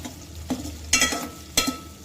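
Garlic, onion and green chillies roasting in a pan, with a few sharp stirring scrapes over a low steady sizzle, alone with no voices.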